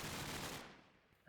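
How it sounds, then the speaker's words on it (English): Rapid automatic gunfire from the Call of Duty 4 video game during a tournament match, a dense sustained burst that fills the clip and then tails off into a fading echo. "He sees a bunch of gunfire coming out middle"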